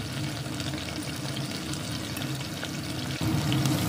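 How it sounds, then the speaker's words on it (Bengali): Pakoras made from leftover rice frying in oil over high heat, a dense continuous crackling sizzle close up that swells briefly near the end as they are turned, no talk. "এইভাবে উল্টিয়ে পাল্টিয়ে হাই স্টিমে আমি এগুলোকে ভেজে ভেজে নামিয়ে নিচ্ছি।"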